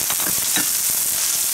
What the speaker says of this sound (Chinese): 这穿好的小肠搂起来，倒下去炒香